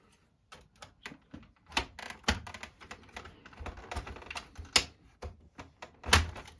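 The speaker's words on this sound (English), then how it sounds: "And then pop off the space bar." Plastic keycaps being pried and popped off a Microsoft ergonomic keyboard with a soft peeler tool, a run of irregular sharp clicks and snaps, close and fairly quiet, with a louder pop near the end.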